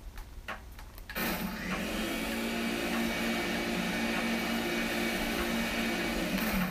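A Poltergust vacuum in Luigi's Mansion roars on abruptly after a few brief clicks, then holds a loud, steady whooshing suction to the end with no talk over it.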